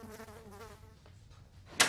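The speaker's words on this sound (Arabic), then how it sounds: "سيب الدبانة دي" Housefly buzzing close by, a wavering insect drone in the first second that fades, followed by quiet room tone and a sudden sharp noise at the end; no speech.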